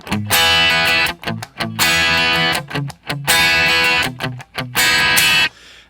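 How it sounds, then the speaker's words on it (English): A single-coil Fender Telecaster electric guitar plays a loud, distorted chugging riff, alternating sustained chords with tight palm-muted stops, heard alone. "This is a Fender Telecaster."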